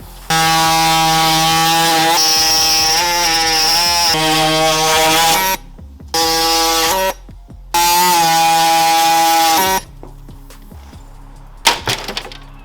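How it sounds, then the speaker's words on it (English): A power tool cuts and grinds a carbon fiber trunk lid on a car build, a loud, high whining drone in three long bursts with short pauses, followed by quieter clatter. "we'll just start cutting and grinding"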